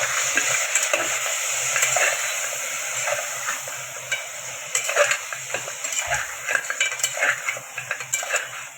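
Goat mutton roasting in a pan with turmeric and salt: a constant sizzle beneath a spatula scraping and clinking against metal, the stirring growing busier and louder toward the end.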